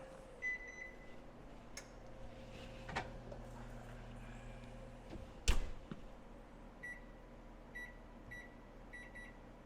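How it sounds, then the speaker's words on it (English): An oven timer beeps in short electronic bleeps, a couple early and a quick run near the end, over a steady hum while blueberry muffins bake, with soft clicks and a bump in between. "I just put them in the oven and I set the timer for 20 minutes"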